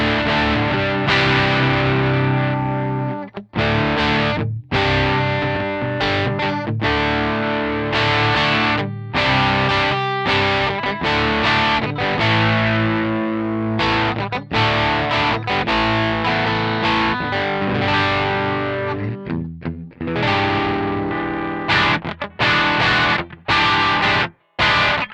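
A heavily distorted G&L Legacy Special Strat plays repeated chugging riffs and chords through its different pickup positions for a long stretch, loud and continuous with brief pauses, no talking.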